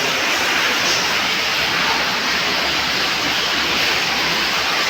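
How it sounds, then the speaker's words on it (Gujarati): Water gushes abundantly from a side borewell into a 100-foot-deep well, a dense, continuous roaring rush heard close and loud throughout. "પાણી ફૂલ પુષ્કળ આવી ગયું છે ભાઈ"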